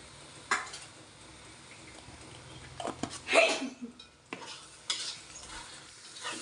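A spoon stirs beef curry masala and turmeric in a pan, with intermittent scraping and knocking strokes over a soft background sizzle, some strokes louder and closer than others.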